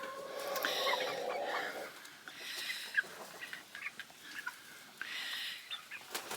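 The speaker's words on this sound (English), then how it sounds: "one of my new Easter egger hens here" Easter Egger hens cluck in short, scattered bursts close by, a few soft calls overlapping through a low hiss with no talking.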